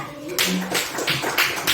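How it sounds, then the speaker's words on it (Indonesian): A classroom of pupils applauds a classmate with scattered, uneven clapping that builds and carries on throughout, close and fairly loud, with a few voices in the background. "Kasih tepuk tangan buat Akia."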